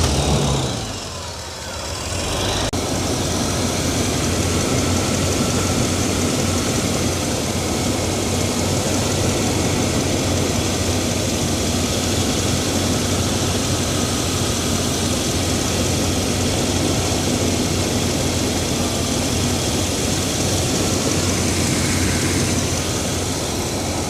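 A Rolls-Royce Silver Spirit III engine catches after a brief start and settles into a steady, smooth, loud idle close by, with a low hum continuing to the end.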